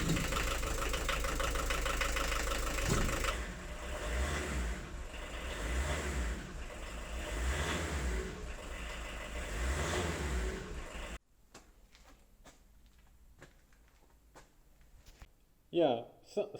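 A 1.6 TD JX diesel engine runs rough, with a loud, uneven knocking throb that rises and falls in pulses, then cuts to quiet background with a voice speaking at the end.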